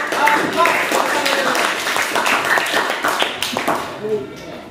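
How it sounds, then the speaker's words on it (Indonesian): Classroom students applaud a presenting group with a quick run of scattered, overlapping claps, while a teacher's voice and other talk carry on over the clapping. "Sekali lagi beri tepuk tangan untuk kelompok 4."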